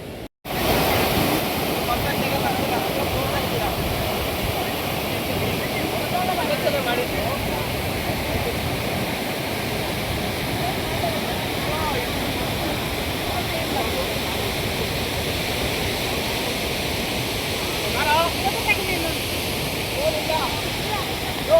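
A waterfall pours in a steady, full rushing roar, close and continuous, with a faint voice or two briefly audible beneath the water noise.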